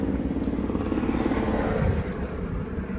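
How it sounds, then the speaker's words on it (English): A police helicopter flies overhead, its low rotor thrum steady and fairly loud, fading slightly toward the end with no talk. "I got a police helicopter flying around."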